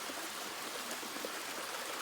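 Small waterfall on a river running through a farm, a steady broadband rush of falling water, quiet and continuous with no talk.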